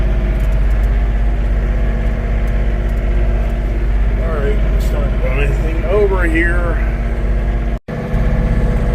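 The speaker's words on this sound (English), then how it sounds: "I'm really impressed with this tractor, the amount of weight it's moving up at the front end on this loader." A John Deere tractor engine runs steadily while working a front loader under heavy weight, a loud, constant low drone close by, with someone speaking briefly over it.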